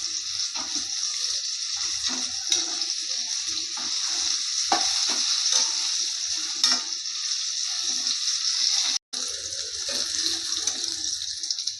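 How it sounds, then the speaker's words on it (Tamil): Small onions sizzling steadily in a pan for onion kara kulambu, a continuous close frying hiss with occasional stirring scrapes and clinks, with no talk. "வெங்காயம் நல்லா வணங்கிருச்சு."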